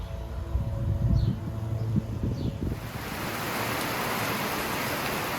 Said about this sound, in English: I was right, rain came.